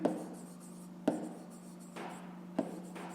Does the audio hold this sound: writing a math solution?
yes